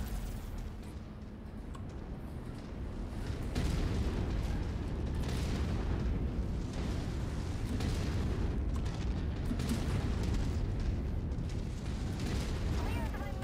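Mech weapons fire and explosions in MechWarrior 5, with a continuous dense rumble of blasts and booms rolling under a voice as he talks.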